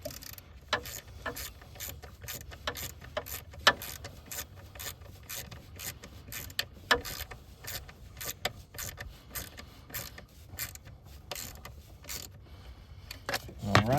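Ratchet with an 8mm socket tightening the MAP sensor bolt on a Kia Sorento, a run of rapid close clicking strokes with faint mechanical rubbing and handling noise underneath.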